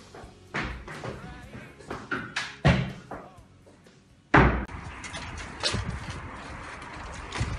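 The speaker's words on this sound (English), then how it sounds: "Hey, please shut the door!" A door is shut with a loud slam partway through, after several knocks and rattling handling noises, with a hollow mechanical clatter and an indoor echo lingering after the impact.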